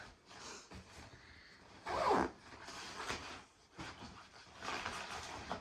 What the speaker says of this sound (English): you zip it.